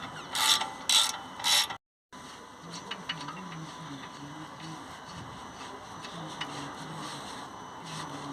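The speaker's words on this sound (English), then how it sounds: "15mm socket onto the bottom bolt here, and then onto the top one, and this gets off the caliper carrier" A 15mm socket ratchet undoing the brake caliper carrier bolts on a Range Rover Evoque, three sharp loud ratchet bursts at the start, then a brief silence and continued soft mechanical clicking and turning.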